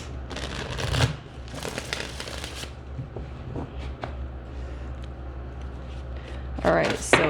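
A tarot card deck being shuffled by hand, with bursts of riffling and crisp card flicks close up, broken by pauses; a voice speaks softly over parts of it.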